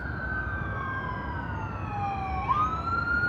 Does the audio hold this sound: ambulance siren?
yes